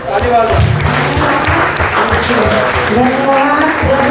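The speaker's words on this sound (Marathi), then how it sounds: "टाळी वाजवा." A worship congregation at a residential retreat in Vasai, Mumbai claps hands in a dense, continuous patter, loud and close, with voices talking and calling out over it.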